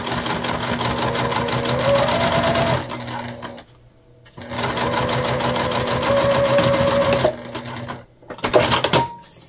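Sewing machine top-stitching a faux leather zipper pouch, running in two loud, steady bursts of rapid stitching, each about three seconds long, separated by brief quiet pauses, with a short handling clatter at the end.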